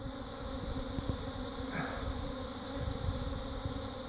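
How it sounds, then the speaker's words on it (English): A swarm of honeybees in Baltimore in early April, a steady buzzing hum of many wings spread close and far under outdoor background noise, with no talking. "Bees flying all over the damn place now."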